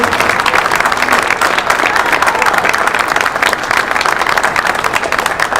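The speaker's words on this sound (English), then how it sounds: "put your hands together and clap for Santiago" An audience at a Q&A event claps loudly and continuously for a participant, dense close applause sustained throughout with crowd noise mixed in.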